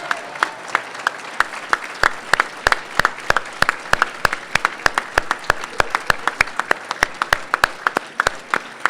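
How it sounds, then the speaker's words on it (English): Audience at a live Smart Cities Challenge event applauding the jury, with sparse, distinct claps from a small number of people in a steady, fairly loud rhythm throughout. "We need to applaud you."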